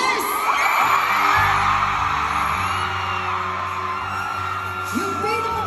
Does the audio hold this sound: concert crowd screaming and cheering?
yes